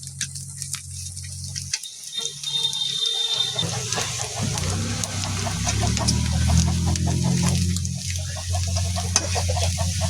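Ginger, garlic and masala fry and sizzle in a pan, with steady crackling and occasional stirring scrapes, close and continuous with no talking.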